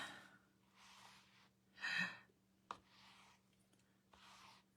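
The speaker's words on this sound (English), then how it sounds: "listen to me gasp." Several quiet breathy gasps and sighs spaced a few seconds apart, with one sharper inhale and a faint click, close and soft.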